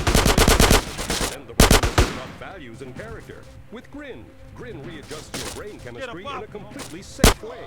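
GTA San Andreas gunfire opens with a loud rapid burst of automatic shots, then a couple of heavy bangs, before game voices and a commentator's speech take over with a single sharp shot near the end.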